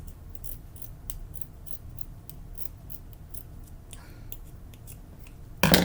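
Scissors snip through a T-shirt being cut for a quilt, a rapid rhythmic series of crisp close cuts at a steady pace, ending with a louder rustle of fabric.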